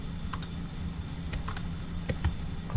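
Computer keyboard keys are pressed to copy and paste in Google Docs, a few light clicks in small clusters over a steady background hum, close by, with no talking.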